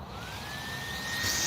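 An IL Goblin RAW 700 RC helicopter spools up after the throttle switch goes on, a steady rising turbine-like whine that climbs in pitch and grows louder over a broad rushing hiss, close by with no talk.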